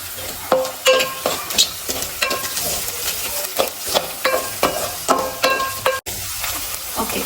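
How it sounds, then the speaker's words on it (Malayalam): Chopped garlic and green chilli being stirred and fried in hot oil, with a steady close sizzle broken by rhythmic scraping strokes of a spoon roughly every half second. "നമ്മൾ അരിഞ്ഞു വെച്ചിരുന്ന വെളുത്തുള്ളി, പച്ചമുളക്, ഇത് ഇത്രയും ഇട്ട് നന്നായിട്ട് ഇളക്കി കൊടുക്കുക"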